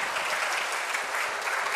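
A short burst of steady applause from a lecture audience, clapping evenly at moderate volume.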